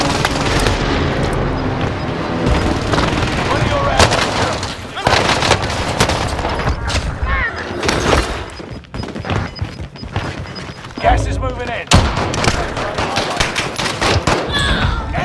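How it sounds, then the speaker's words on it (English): Precision airstrike explosions erupt in a first-person shooter, loud crashing blasts and bursts of gunfire repeating in clusters across the span, with voices talking over parts of the din. "Precision airstrike."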